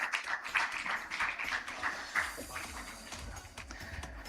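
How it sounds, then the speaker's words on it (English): Faint, scattered clapping from a conference audience in Mumbai, a soft patter of many hands that thins out toward the end. "I think your applause can be much better."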